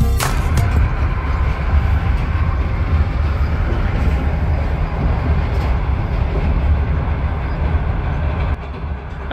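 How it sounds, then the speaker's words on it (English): Inside a moving train on the Tashkent to Khiva line in Uzbekistan, a heavy, steady low rumble and rolling rattle continue unbroken, with a brief clunk near the start and no talking. "I've been traveling on this train from Tashkent already for 13 hours"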